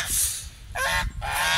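Farm geese in their pen honk loudly and close by, sounding two or three harsh blaring calls in quick succession with no talking.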